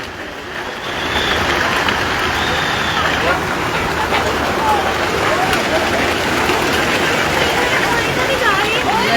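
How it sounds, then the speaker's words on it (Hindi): Heavy rain with hail pelting down at the Vaishno Devi shrine, a dense steady hiss and patter that swells after the first second and holds loud and close throughout. "ये माता वैष्णो देवी का दरबार, जबरदस्त ओले पड़ रहे हैं इस पर।"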